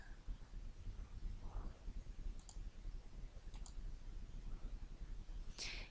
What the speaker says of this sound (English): You can create a bookmark by clicking the bookmark button.